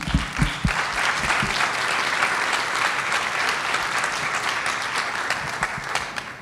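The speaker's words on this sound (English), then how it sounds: "that deserves a round of applause" Sustained, steady applause from a conference audience filling a hall, dense and even throughout after a few louder claps at the start.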